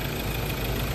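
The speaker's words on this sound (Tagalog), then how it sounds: "Ganda ng timing ng makina." A turbo diesel SUV engine idles with the hood open, a steady close-up rumble with an even mechanical knock and no voices.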